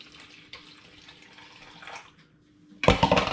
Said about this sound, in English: just going to literally rinse it out with the tap.